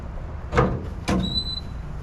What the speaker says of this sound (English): These doors open, giving you better access to the motor.